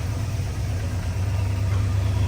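A poorly running car fitted with an updated Mopar ignition box idles while warming up, a steady, loud, low rumbling drone with no pauses or revving, heard up close and alone.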